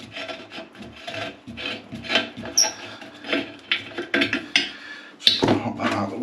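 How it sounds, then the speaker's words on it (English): A spanner loosens a flexi hose fitting on a tap in a domestic plumbing repair, giving a close, steady run of scraping, rasping metal turns with small clicks and knocks. No voices. "So we'll get the spanner on that and do this flexi off."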